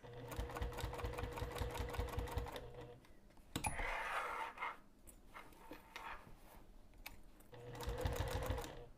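A sewing machine stitches a side tab onto a bag in rapid, even bursts of needle clatter, with a quieter handling pause in the middle before stitching resumes, heard up close.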